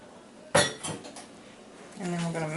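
Cornbread ingredients being combined in a bowl beside a 10-inch cast iron skillet: a sharp clatter of utensil against dish, then softer clinks and scraping, with a voice speaking near the end.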